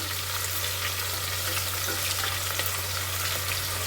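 Onion frying in a pan on a stove over medium heat, giving a steady, continuous sizzle with a low background hum, close and even throughout, with no voices.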